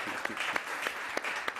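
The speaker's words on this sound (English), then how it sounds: "let's give Brother Leslie a wonderful round of applause" An audience at an entrepreneurship week gathering gives a brief, sparse round of applause: a handful of distinct, close claps over a soft bed of scattered clapping, with no talk.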